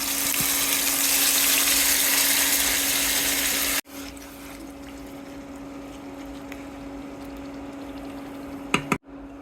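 Marinated shing fish frying in a little oil in a pan, with a loud, steady hissing sizzle that cuts to a quieter continuous sizzle, and a couple of sharp clatters near the end.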